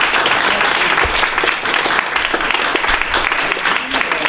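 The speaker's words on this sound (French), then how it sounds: "Donc je crois qu'on peut vraiment l'applaudir" Loud, dense applause from an audience at an inauguration event in Quimper, honouring a long-serving treasurer, with steady clapping throughout and a few low thumps and voices mixed in.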